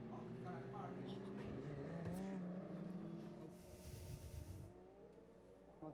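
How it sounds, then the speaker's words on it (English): Safety car circling a race track during an Audi R8 LMS Cup round in Korea, its engine a steady, moderately distant drone under continuous commentary. "The safety car we're just hearing will be coming in at the end of this lap"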